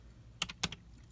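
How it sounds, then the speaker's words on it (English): A few quiet keystrokes on a computer keyboard, two or three distinct taps close together against a near-silent background. "you can either hit the key on your keyboard"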